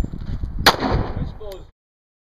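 A single sharp shot from a custom Colt 1911 pistol cracks out at close range over outdoor background noise, followed by a brief fainter report before the sound cuts off.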